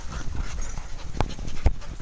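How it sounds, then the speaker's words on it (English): A dog panting steadily up close, rapid breathy huffs throughout with a couple of sharp clicks or thumps, no talk. "Look at you panting"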